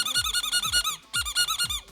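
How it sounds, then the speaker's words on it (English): A Furbo dog camera plays a squeaky-toy sound, with rapid repeated high-pitched squeaks in two bursts separated by a brief pause, fairly close and alone. "I wonder what'll happen if we use the squeak."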